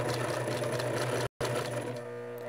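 A sewing machine stitches fabric with a loud, steady mechanical hum, stops briefly, then runs again as it backstitches to lock the seam.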